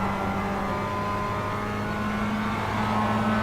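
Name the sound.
Mazda MX-5 Cup race cars at full throttle, iRacing video game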